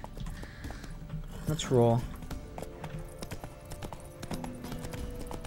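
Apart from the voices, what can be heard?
horse hooves clip-clop in The Witcher 3 video game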